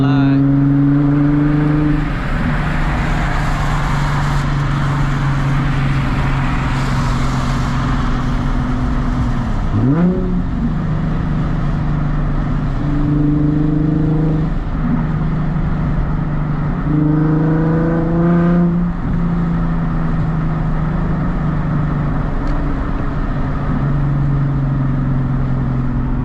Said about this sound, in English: I really be cruising in fifth gear most of the time.